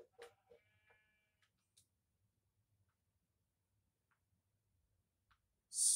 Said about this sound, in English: Oh, sheep, I can kill you